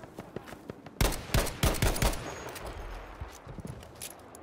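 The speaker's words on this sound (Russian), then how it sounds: "Я прям слышу, как снайпер стреляет." Sniper rifle shots ring out in Battlefield V's Pacific Storm battle, several sharp cracks close together in the middle amid distant gunfire and battlefield din, with no talk.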